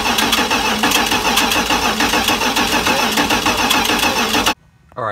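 A 1984 Dodge Ram engine cranking steadily with a rapid rhythmic churn, loud and close, before it cuts off abruptly near the end.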